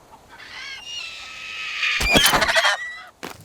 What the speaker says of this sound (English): I wasn't so lonely yet that I'd put up with that squawking.